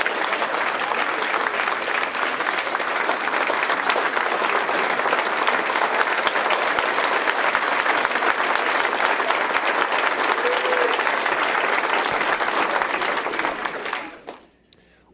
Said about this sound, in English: So please give him a round of applause as he makes his way to the podium.